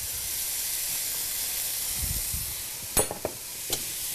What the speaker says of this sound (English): And we're going to stir this up.